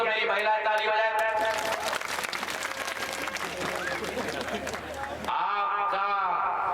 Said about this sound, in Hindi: अगर ठीक किया तो मेरी महिला ताली बजाए